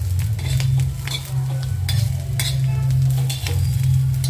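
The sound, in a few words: roasting corn cob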